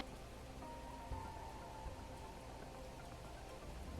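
Steady rain falling in the Planet Crafter video game, a continuous even hiss of drops on surfaces that holds at the same level throughout with no voices.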